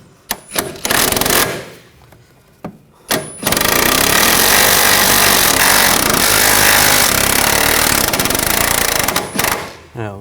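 A power tool runs the rear CV axle nut down on a 2014-2020 Nissan Rogue. After a few short clicks and bursts, it hammers loudly and steadily for about six seconds before cutting off, close to the listener.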